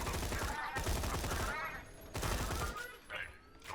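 Bursts of gunfire from the Borderlands 2 video game, with Roland's Scorpio weapon firing in rapid, punchy volleys separated by short gaps, loud and sharp, while a voice talks faintly underneath.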